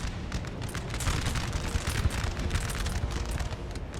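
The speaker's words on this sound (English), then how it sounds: "Napoleon's artillery is targeting their position." Artillery fires in Napoleon: Total War, a dense, continuous rumble of cannon booms and musketry across a battlefield, loud and sustained with no clear gaps.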